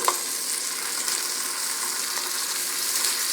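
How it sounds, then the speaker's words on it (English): Steady, close sizzling hiss of fish tikka searing on a hot grill, continuous with faint crackles throughout. "I wish you all can hear the nice sizzling and the smell as soon as that fish hits the grill"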